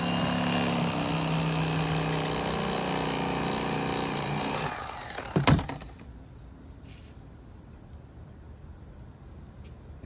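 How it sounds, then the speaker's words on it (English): An electric knife filleting flounder and sheepshead, a steady motorized buzz that runs for about five seconds, ends with a brief clatter, then quiet. "your last and final fillet with the electric knife"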